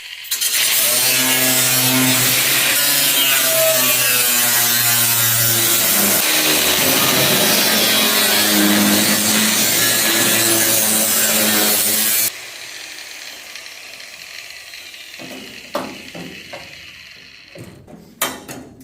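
Sheet metal of a car firewall being cut makes a loud, steady grinding and rasping that keeps going for about twelve seconds. It then stops and leaves a quiet stretch with a few scattered clanks and taps.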